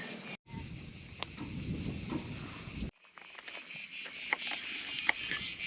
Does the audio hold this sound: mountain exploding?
no